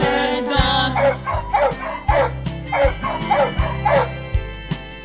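A male blue Louisiana Catahoula Leopard Dog barks in a quick series of loud, close yips and bow-wows with brief whimpering tones between them. No one speaks.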